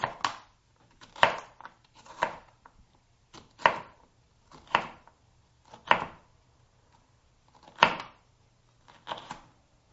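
A knife chops vegetables for a southwestern salad on a cutting board, giving about nine crisp, close thuds at a steady, unhurried pace with quiet gaps between strokes.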